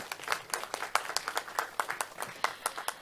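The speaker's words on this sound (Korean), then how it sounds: "여러분 큰 박수 부탁드리겠습니다." Applause from a small audience at a 2022 Safe Korea disaster drill in Dalseong County, Daegu, heard as sparse, distinct handclaps in an uneven rhythm, moderately quiet.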